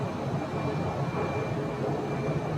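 An American airliner departs Phoenix airport, heard as a steady, broad jet-engine roar from a distance with no talking.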